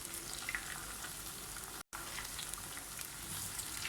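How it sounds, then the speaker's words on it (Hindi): Chicken and potato pakoras frying in oil over a low flame produce a soft, even, bubbling sizzle heard close by, with one momentary gap of silence midway. "अभी इसको मैं बना के फ्राई करूँगी। आंच पे फ्राई करना है"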